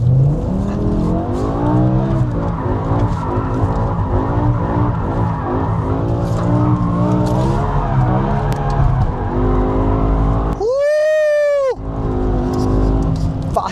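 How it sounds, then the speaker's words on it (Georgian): BMW M5 with a V10 engine drifting hard through a corner: loud continuous engine roar with shifting revs, then a sharp rising tire squeal near the end, close up. "ეხლა აი ეს მოსახვევი მინდა მაგრად რო ზანოსით გავიარო რა"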